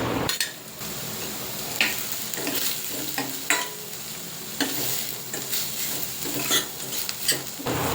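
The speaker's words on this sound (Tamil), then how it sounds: "கூடவே கொஞ்சமாக கறி லீஃப் சேர்த்து வதக்கி விட்டுக்கலாம்" Onion and curry leaves sautéing in a pan for barley soup, with a soft sizzle under repeated spatula scrapes and clinks against the metal, irregular strokes close up, with no talking.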